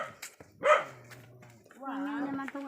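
A dog barks once sharply up close, followed by a lower, drawn-out whine or growl-like vocalization, with a person talking softly near the end.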